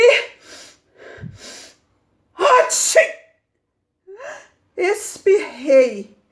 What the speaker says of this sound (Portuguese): quando eu senti que um espirro vinha vindo